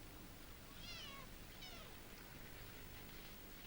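A small kitten gives two or three faint, high, short meows against a quiet background hiss, close by and with no talking.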